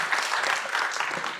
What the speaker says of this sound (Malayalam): ഒരിക്കലും കൂടി നല്ലൊരു കയ്യടി കൊടുക്കാം